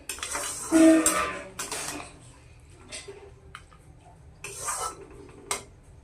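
A spoon scrapes and clinks in a pan while a lentil powder mixture is stirred in, with a few sharp utensil knocks. The scrapes come in short bursts amid quiet gaps, and faint speech is heard.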